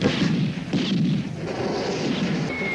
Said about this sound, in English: It's oh, a fireworks, fireworks display.